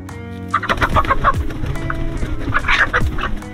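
Several Faverolles hens cluck and murmur close by in an irregular, busy chatter, with overlapping calls and brief louder squawks.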